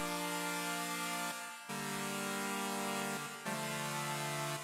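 Bright sawtooth synthesizer chords held in long sustained blocks, changing three times with brief dips between, rich and buzzy with no talking.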